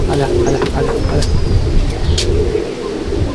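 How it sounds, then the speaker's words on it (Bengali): Pigeons coo steadily in a Halisahar pigeon loft, a close, continuous soft burbling with a few sharp clicks and rustles mixed in. "এই দেখুন পায়রা"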